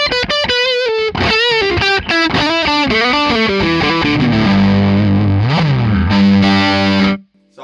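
Loud, heavily distorted electric guitar through a Hotone XTOMP pedal running a Plexi amp simulation, a run of punchy picked notes descending into sustained ringing chords before cutting off abruptly.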